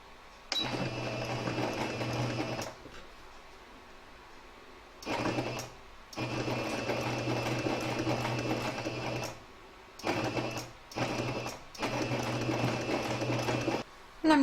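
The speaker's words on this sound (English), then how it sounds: "I'm going to stitch a hair's width to the left of this line so that this stitch line will actually be hidden" A sewing machine stitches a fabric panel of a crazy-patch evening bag in bursts of steady mechanical whirring, running for a couple of seconds, pausing, then starting again, fairly close and alone.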